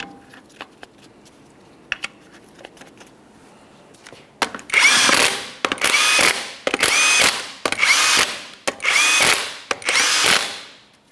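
Impact gun bursts running 21mm lug nuts onto the driver's side front wheel of a 2004-2008 Ford F-150, six loud separate rattling bursts after a few quiet seconds of light shop noise.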